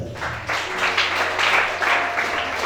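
Applause from a church congregation during a prayer and deliverance service, a dense, steady wash of clapping that swells at once and carries on for the whole stretch, with faint voices underneath.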